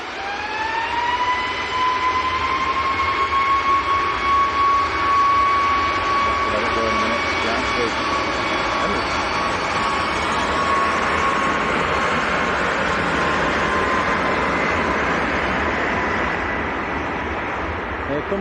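An ATR 72 turboprop at Manchester Airport spools up with a rising whine that settles into a sustained high tone over a loud, rushing engine roar.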